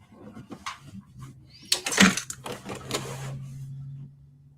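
A sewing machine runs in short, uneven bursts while stitching a seam on a denim tote bag, with mechanical whirring and rattling close by, a steady low hum underneath, and little talk.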